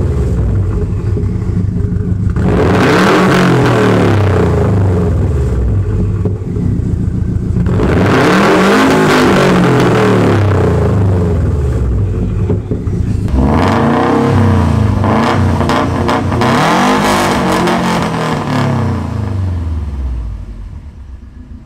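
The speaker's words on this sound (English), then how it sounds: "Now, the ETS Extreme is loud" Subaru WRX STi fitted with an ETS Extreme catback exhaust, revved in three close, loud bursts, each rising to a raspy roar and falling back to a rumbling idle, the last burst with repeated quick blips.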